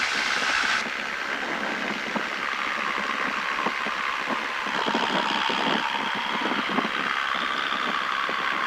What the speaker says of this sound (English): See the RPMs drop? Yeah, you can kind of hear it too.